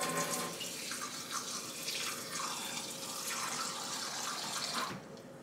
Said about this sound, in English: Put a little water in.